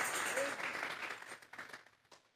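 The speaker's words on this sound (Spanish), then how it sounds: "Vamos a regalarle ofrenda de palmas al Dios de la gloria" A church congregation applauds together in praise of God, a dense burst of clapping that thins and fades over a couple of seconds, with a voice speaking over it.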